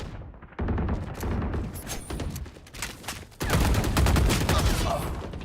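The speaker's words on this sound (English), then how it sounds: "Okay, everyone's starting to shoot now." Rapid gunfire rattles in the video game Valorant, dense bursts of shots that start abruptly, thin out briefly, then surge into a loud sustained volley near the end.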